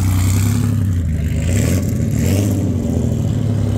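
Nissan GT-R R35 engine at a car meet, a loud, steady low-pitched drone from close by as it rolls out, with a faint lift in revs partway through and no speech over it.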